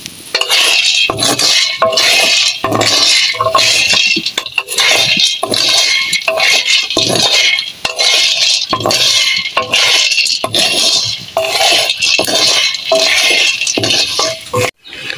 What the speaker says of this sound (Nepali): यहाँ चाहिँ कफी भुट्दैछु।